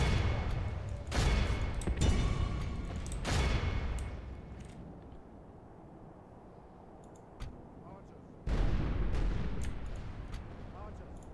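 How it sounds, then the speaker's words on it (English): Mortar bombardment of a small wooden fort town in Total War: Warhammer, heavy booming volleys landing in several spaced bursts with quieter rumbling gaps between, while someone talks over parts of it. "These mortars are so overpowered in just like smaller fort cities, like wooden cities"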